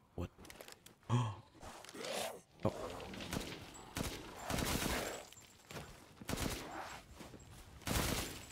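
Gunfire in a first-person survival-horror video game: irregular bursts of loud shots mixed with grunts and game effects, with occasional pauses between volleys.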